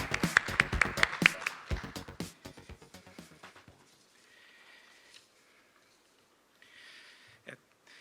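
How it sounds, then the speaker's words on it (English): An audience applauds at a Korea-German conference as a deputy ambassador is welcomed: a loud burst of dense clapping that thins to scattered claps over a few seconds, followed by quiet room tone and a single sharp knock. "So now let us welcome him with a big round of applause."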